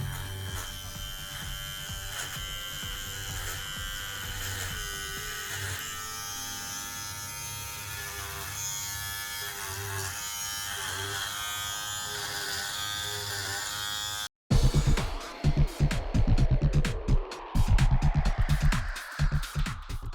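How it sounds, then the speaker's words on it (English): Electric shaver buzzing steadily against a Rainbow High doll's head to remove its hair, a close continuous whine with shifting tone, then louder rough scraping bursts after a brief pause. "right now you can watch me shave off her hair"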